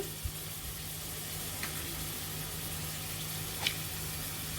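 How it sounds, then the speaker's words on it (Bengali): Mola fish frying with tomato and onion in a pan, a steady soft sizzle with a few faint clicks, quiet and continuous. "এখন ভালোভাবে কষিয়ে নিতে হবে"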